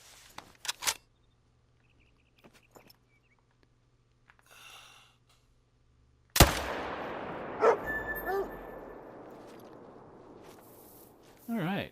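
In Hunter Call of the Wild, set in the New England Mountains, a hunting dog barks after a loud echoing gunshot, with short yips standing out over a lingering outdoor ambience that has a few faint sounds beforehand.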